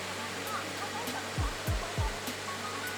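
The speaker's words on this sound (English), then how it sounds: "It's a bit noisy because of the aircon compressor." A constant loud mechanical whoosh from the air conditioner compressor of a 2018 Mercedes-Benz GLC200 drones throughout, with a few low thumps rising over the steady noise.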